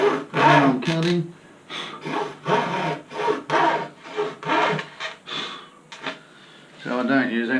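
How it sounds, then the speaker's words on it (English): A hacksaw cuts through a light-build skin of about 140 grams for a RockBreaker hinge, with rhythmic rasping strokes driven only by the saw's own weight, close and fairly loud, and a voice briefly audible near the end. "So I don't use any pressure on the hacksaw, it's just the weight of the saw itself."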